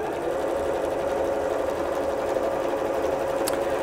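A sewing machine stitches quilt fabric pieces together, a steady, fairly quiet mechanical whir running evenly and alone without pause.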